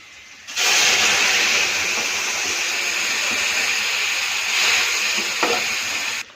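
Lentils (dal) bubble in a pot with ginger, a loud, steady hissing and bubbling that begins abruptly after a brief quiet moment and carries on with slight swells and faint clinks.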